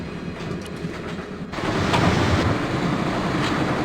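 A moving train in the video game Broken Sword, a steady loud rumble that swells after a short quieter opening and then rolls on with a continuous rattling clatter.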